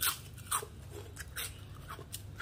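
Crisp, crunchy bites of fried bhaji fritters, several sharp crunches spaced about half a second apart, close up, with a low steady hum underneath and no talking.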